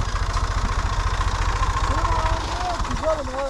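A low, steady rhythmic tractor engine idle thrums close by throughout in an olive grove, with a voice speaking over it in the second half.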